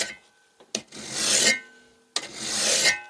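A Rockler cabinet scraper sharpening tool is drawn along a card scraper in two long, rasping passes, each a close, scraping rub lasting under a second, separated by a short pause.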